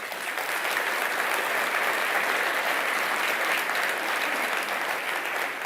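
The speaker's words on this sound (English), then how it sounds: "give them a big round of applause" Conference audience of business leaders applauding sponsors at the CBI conference, a dense, steady wash of clapping from many hands lasting throughout at even loudness, with no voices.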